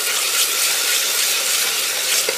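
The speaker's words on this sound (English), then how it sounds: "Mix it well." Turmeric, chili, coriander and cumin powders fry and are stirred in a pan for aloo gobi curry, giving a steady, close hiss and sizzle with no talking.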